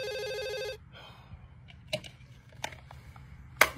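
A telephone rings with a steady electronic tone that stops after under a second, followed by quieter household noises and a few sharp clicks and knocks, with no talking.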